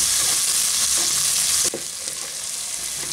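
Chopped medium tomato hits hot oil in a pan and fries with a steady, loud broadband sizzle that drops slightly in intensity partway through, with faint stirring scrapes underneath and no talking.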